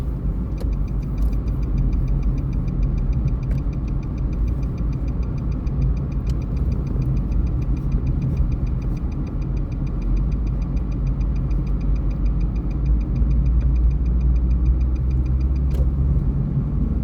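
Car engine running steadily during a driving lesson, a loud constant low drone with a faint rhythmic ticking, with no talk heard over it.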